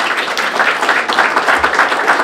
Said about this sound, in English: Dottie, let's have a round of applause for our elected officials